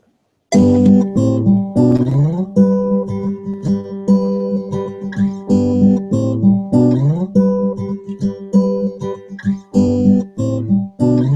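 Short guitar piece looped over and over: close, steady picked notes cycling in a repeating pattern with a clear, even pulse, heard alone.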